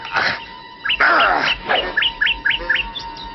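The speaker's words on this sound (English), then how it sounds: "Shut up, you rotten bird." A cartoon bird chirps in quick, bright, repeated tweets, with a series of rising whistled notes after a burst of noisier calls, loud and close in an animated Tom Sawyer adventure.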